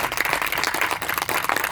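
An audience at an event in India claps for Deepak, a dense, uneven patter of hands that runs steadily and fairly loud throughout, with no one speaking over it.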